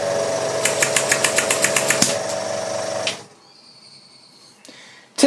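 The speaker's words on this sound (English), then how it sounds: "give it a quick run on compressed air to blast any condensate out of the cylinder" A Weir boiler feed pump runs on compressed air with a steady rapid clatter and rhythmic ticking for about three seconds, then cuts out to a faint hiss before a sudden noise at the end.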